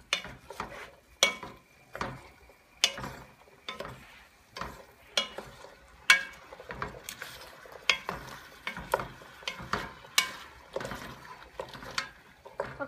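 Food stirred in a pan, a spoon scraping and knocking in repeated strokes about once a second, close and clear over a quiet background, with no talking.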